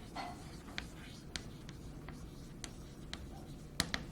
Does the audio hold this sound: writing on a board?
yes